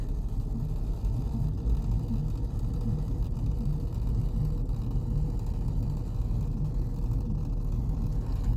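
An old Saab 9-3 with bad brakes, rescued from a scrapyard, rolls slowly around the block, giving a steady low engine and road rumble heard from inside the car with no talk.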